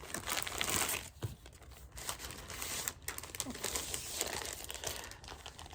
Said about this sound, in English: you are going to get some crinkling as this lives in the packaging that it came in